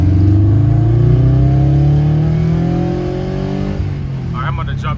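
A car accelerates hard in a pull away from a cars-and-coffee meet, its engine note sweeping upward loud and close, then fading as it moves off while faint voices are heard.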